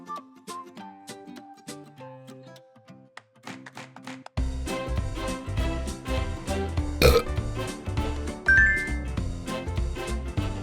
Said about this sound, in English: You can burp after eating.